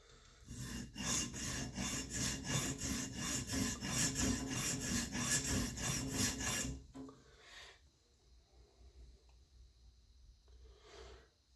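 An EDC pocket knife blade is stroked across a sharpening stone in a quick rhythmic series of rasping passes, close and loud. The strokes stop partway through, leaving quieter handling sounds and a single faint scrape.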